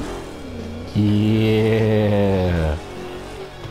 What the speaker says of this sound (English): Hold the accelerator to fire up the engine.